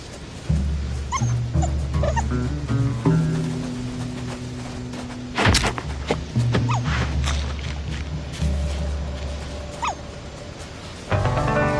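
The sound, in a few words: badger cubs calling in video game Shelter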